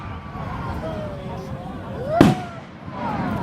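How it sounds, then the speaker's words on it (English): Fireworks burst in the distance with a sharp crack midway through, amid whistling trails and a steady rumble of crowd noise, with people talking and cheering nearby. "That's where the fireworks are happening, in that little spot."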